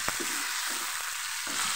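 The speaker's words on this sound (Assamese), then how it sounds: "এতিয়া এইখিনি অকণমান সময় ভাজি ল'ম।" Onions and tomatoes fry in a pan, giving a steady, close, hissing sizzle with a few faint knocks underneath.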